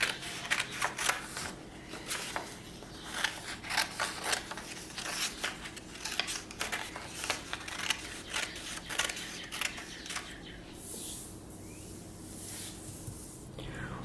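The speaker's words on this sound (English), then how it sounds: "just cut it right out of the paper" Scissors snip through paper for a craft project, a steady run of close, crisp cuts with quick rhythmic clicks and rustling, no talking.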